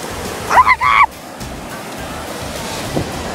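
Ocean waves washing onto a windy beach right at the shoreline, a steady rushing surf roar with wind noise buffeting the microphone, and a brief loud gust burst near the start.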